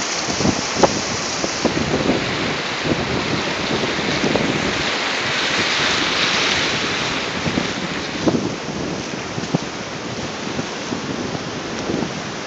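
Ocean waves wash onto a beach in a steady, loud roar of surf, with wind buffeting the microphone and occasional louder crashes rising above the continuous hiss.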